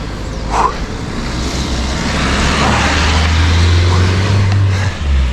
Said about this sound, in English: No, a car. I hear it.